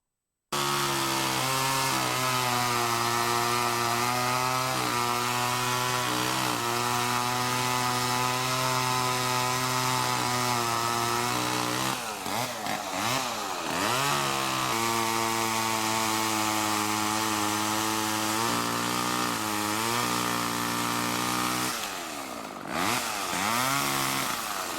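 A chainsaw idles and revs loudly and steadily up close for the whole stretch, its engine pitch dipping and surging in a few brief bursts.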